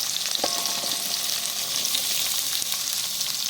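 Large onions sautéing in sesame oil for onion thokku, a dense steady hiss of frying with a few faint stirring scrapes, close and uninterrupted.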